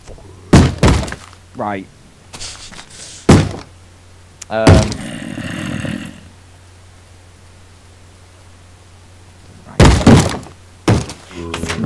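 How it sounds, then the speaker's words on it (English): A zombie banging on a wooden door in Minecraft, several heavy, hollow thuds spread across the scene, loud and close, with people talking between and over the knocks. "Is he banging the door?"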